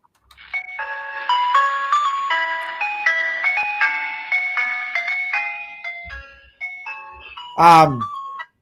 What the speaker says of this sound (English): my work phone legit is an ice cream truck